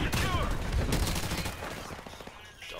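A grenade blast in a Call of Duty Domination match arrives amid dense, chaotic gunfire, a loud, continuous wash of shots and bursts that thins slightly toward the end, with voices in the mix.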